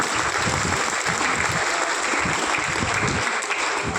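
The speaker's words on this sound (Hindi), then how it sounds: "आप सभी से अनुरोध है कि जोरदार तालियों से उत्साहवर्धन करें।" A crowd claps loudly and continuously at the opening of a stage play, a dense burst of applause sustained from start to finish.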